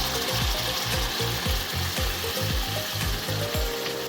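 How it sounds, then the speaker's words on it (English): Puttanesca sauce of pureed tomatoes, olives, capers, basil and Italian seasoning bubbles in a pot, with steady sizzling and repeated scraping strokes of a spoon stirring at a regular rhythm throughout. "Bring it up to a fast simmer while continually stirring, then lower the heat."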